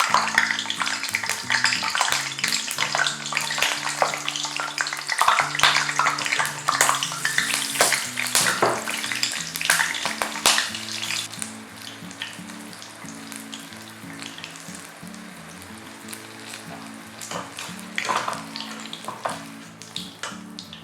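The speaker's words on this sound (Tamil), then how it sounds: "நான் வந்து இந்த பச்சை மிளகாய் வந்து வறுக்க போகிறேன்" Green chillies frying in oil for a cabbage 65 side dish, giving a crackling, popping sizzle that is dense and loud at first, then settles quieter, all under background music.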